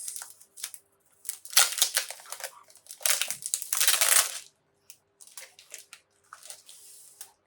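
Plastic packaging from printable vinyl stickers crinkles and crackles up close in bursts, with short pauses between louder rustling handfuls.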